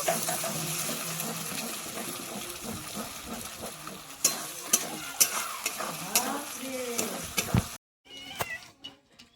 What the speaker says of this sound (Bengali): দিয়ে এইভাবে আমি ডিমটা ভেজে নেব